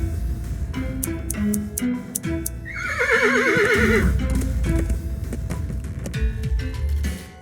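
A video game horse gives a loud, close whinny in the middle, with hoof clops and shuffling before and after.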